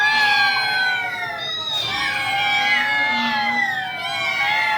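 Several people, including children, imitate a cat together, their voices producing overlapping drawn-out meows that rise and fall, loud and close, with a crowd-like chorus quality.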